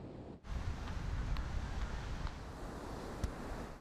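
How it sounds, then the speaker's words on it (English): Big waves pounding the Gulf of Mexico shoreline at Cotton Bayou Public Beach in stiff southeast winds, a loud continuous roar of surf and gusting wind noise with occasional thumps, no voices. "Big waves pounded the shoreline and water pushed in towards the dunes at Cotton Bayou Public Beach"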